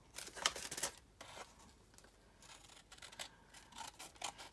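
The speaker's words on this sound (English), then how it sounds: "I'm just going to cut it off" Scissors cutting through paper for a collage page, a few quick crisp snips near the start followed by softer intermittent snipping and rustling, close and fairly quiet with no talk.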